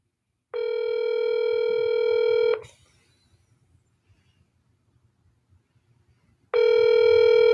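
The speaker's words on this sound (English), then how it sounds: "What do you do when your psychic calls and you don't answer?" A telephone rings unanswered, one long electronic ring tone, a pause of about four seconds, then the next ring starting, clear and close.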